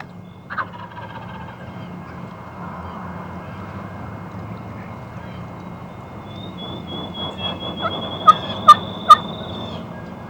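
Wild turkey gobblers, fantail toms in spring, answer from a distance with a rolling gobble early on, then three short sharp calls near the end over a quiet, steady background hum.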